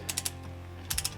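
Wrench tightening engine cylinder head bolts on a 1275 engine, two quick triple-click ratchet bursts separated by a pause, close and fairly quiet over a steady low hum.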